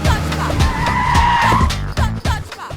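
A sports car skids hard on pavement, a loud sustained tire squeal rising over revving engine noise, with sharp thumps and impacts around it in a dubbed action film scene.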